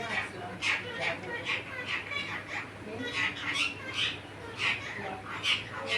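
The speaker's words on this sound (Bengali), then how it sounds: "এই দেখো শালিক পাখি এসছে" A myna bird calls while feeding outdoors in the morning, giving short bright squawks repeated at a steady pace throughout, at moderate distance over faint background noise.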